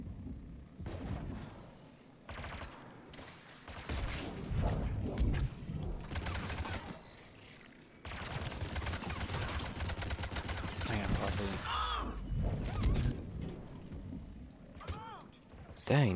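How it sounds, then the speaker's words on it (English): Enemy gunfire in Mass Effect 3 multiplayer crackles in dense, rapid bursts with a few pauses, loud and sustained over a long stretch, with a voice talking at times underneath the shooting. "something keeps shooting the crap out of me"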